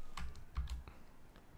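Keystrokes on a computer keyboard tap in a short, quiet burst of several irregular clicks, close and alone.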